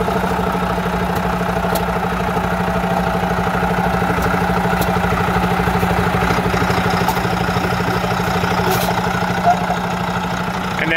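Cummins S13 integrated powertrain diesel in a truck with a T14 transmission, idling steadily and quietly with an even low hum and light mechanical ticking, heard close up throughout with no voices.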